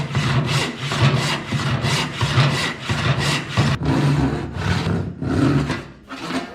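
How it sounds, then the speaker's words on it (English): Hand saw cutting a wooden board, a loud rhythmic rasp of regular push-pull strokes, about ten in a row, close up and without talk. "I flip the board around and saw from the other side to stay close to the gauge line"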